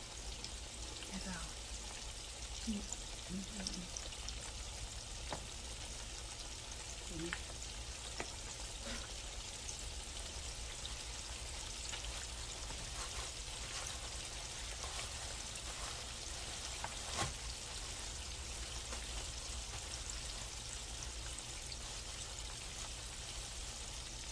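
Mustard-coated chicken legs frying in a pan, a steady broadband sizzle and crackle running continuously with faint scattered pops, moderately loud and close, with brief low talk near the start.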